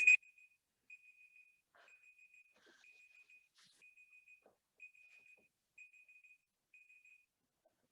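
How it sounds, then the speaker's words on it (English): A workout interval timer goes off with a series of short, evenly spaced electronic beeps, about eight in a row. They are fairly faint and steady, with no talk over them. "My timer went crazy."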